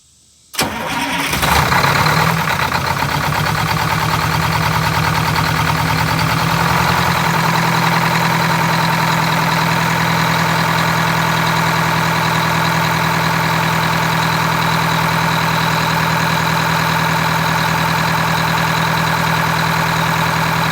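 A Wanderlodge RV diesel engine, with freshly primed Raycor fuel filters, cranks briefly and fires, then settles into a loud, steady idle with a deep droning hum that runs unbroken and close for the rest of the clip.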